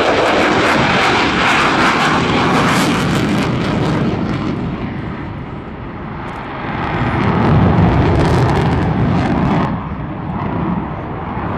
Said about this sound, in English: And now, from your left, it's Major Corrigan in your F-16 Fighting Falcon.